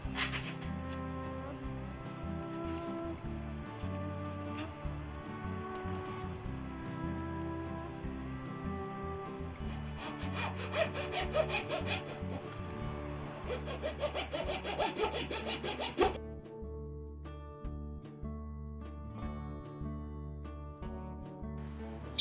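A razor saw cuts thin wooden rudder ribs in a steady run of quick, rhythmic back-and-forth rasping strokes, close and clear with no talking, ending with a few lighter scrapes.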